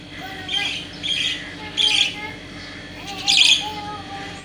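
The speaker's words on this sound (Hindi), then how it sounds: "सुबह सुबह जब हम चिड़ियों की आवाज़ सुनते हैं तो बहुत अच्छा लगता है।" Birds call near a home in the morning, sending out several short bright chirps and squawks in separate bursts over a faint steady background hum.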